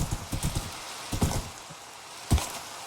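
Horse hooves in the Minecraft video game clop in quick uneven bursts over a low hiss, with a cluster of steps early, another pair in the middle and one louder thud near the end, no voices over them.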